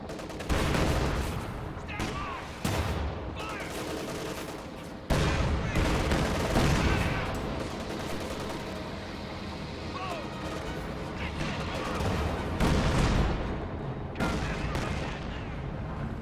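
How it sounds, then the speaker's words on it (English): Priest self-propelled artillery fires during a video game battle, heavy booming shots amid continuous gunfire and rumbling combat, with a commentator talking over the noise throughout. "Priest firing again."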